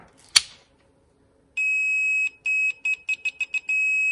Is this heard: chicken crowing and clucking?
no